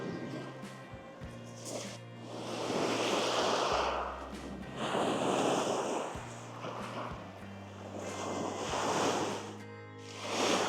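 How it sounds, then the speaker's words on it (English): Waves crash onto the shore at Chimney Bluffs in long, rolling surges, each swelling and breaking every few seconds under steady wind rumble, with no voices. "just the sound of the crashing waves and my cameras."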